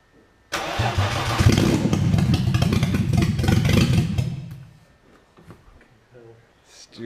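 A BMW E36 drift build with a swapped engine cranks and fires up with no exhaust fitted, roaring very loud and raw for several seconds before dropping off, close to the microphone.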